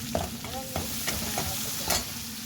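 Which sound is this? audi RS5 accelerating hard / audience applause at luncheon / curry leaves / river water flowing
curry leaves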